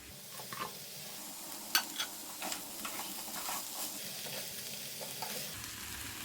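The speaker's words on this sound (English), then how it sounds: "For just 1 minute I will fry on low flame." Spring onion whites fry gently in a pan over a low flame with raw jackfruit, giving a soft, steady sizzle with a few light scraping stir strokes and clicks scattered through it.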